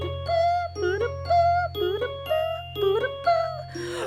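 A school bell chime in the Katawa Shoujo visual novel plays a clear melodic sequence of about eight tonal notes in a steady pattern over a low constant hum.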